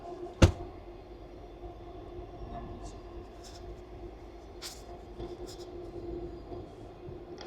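A passenger train runs on its rails, heard from inside the carriage as a steady low rumble with a sharp knock near the start and faint clicks and squeaks scattered through.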